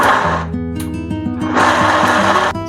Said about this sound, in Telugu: సో ఇప్పుడు నేను కోర్స్ గ్రైండ్ చేస్తాను.